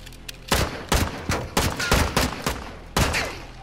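Gunfire in Call of Duty Modern Warfare II rings out as loud, sharp shots in irregular bursts, some fired in quick succession and others spaced apart, close and dominant.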